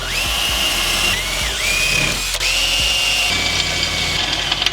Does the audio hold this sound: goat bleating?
no